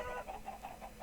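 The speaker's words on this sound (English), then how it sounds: "there's more chickens here. There's like a lot of chickens over here." Chickens clucking in the Minecraft video game, a steady run of about six short, evenly spaced clucks at moderate loudness over a faint background hum.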